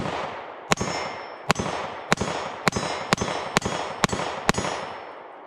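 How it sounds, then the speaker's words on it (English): A Sig P365-XMACRO pistol with a red dot and compensator fires a full magazine, about ten loud, sharp shots in a steady rhythm, each with a ringing tail. "he's going to shoot his first full mag through it"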